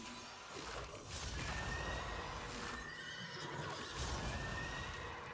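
A horse whinnies loudly in a video game, a long, close neigh with clip-clop hooves mixed in and no speech over it.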